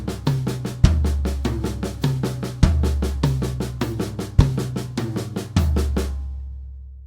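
Drum kit toms in a Grade 3 lesson piece, struck in a steady stream of eighth-note triplets, with heavier accented hits at regular intervals and a ringing decay after the last stroke.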